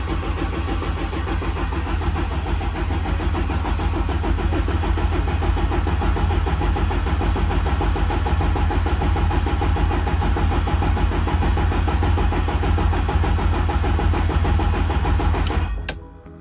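A race car engine cranks and fires in winter cold, then settles into a steady, rumbling idle that runs throughout before cutting off abruptly at the end.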